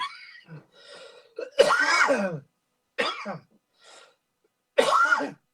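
Several harsh coughs come in separate bursts with short pauses between them. The coughing is close and fairly loud, with a little throat noise in between.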